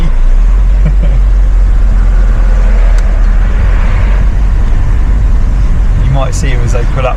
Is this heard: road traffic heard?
yes